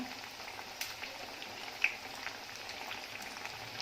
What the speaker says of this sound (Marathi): स्लो फ्लेमवर सावकाश तळून द्यायचे आहेत